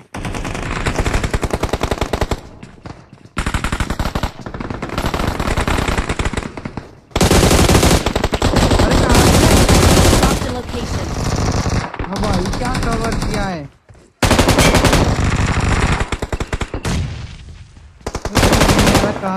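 Machine gun fire in a shooter video game: long, loud sustained bursts of rapid automatic shots, broken by short pauses, with faint voices mixed in.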